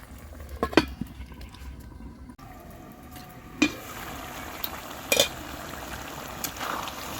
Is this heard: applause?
no